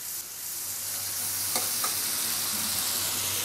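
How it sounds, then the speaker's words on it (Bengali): Spice masala frying in a pan with a little water added, a loud, even hiss of sizzling from close by with a couple of soft spoon scrapes midway and no talk. "ভালোভাবে নাড়তে হবে, না হলে মশলাটা নিচে লেগে যাওয়ার সম্ভাবনা থাকে।"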